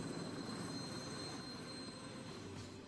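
A freight train from China to Europe carrying Dell computers and other electronics, heard as a continuous dense rumble with faint steady high squeal, fairly quiet and unbroken, no talk.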